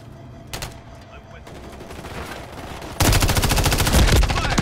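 Gunfire in the Modern Warfare III beta: a single distant shot, a stretch of low background noise, then a loud close sustained burst of rapid automatic fire.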